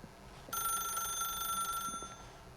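A telephone rings in the video game The Stanley Parable, a bright, steady electronic tone that starts abruptly and holds for about a second and a half before cutting off, leaving quiet room tone.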